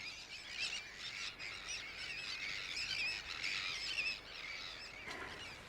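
Many birds calling together near a coastal estuary beside dunes, with eider ducks among them; a dense, steady chorus of overlapping squawks and chirps continues throughout without any talking.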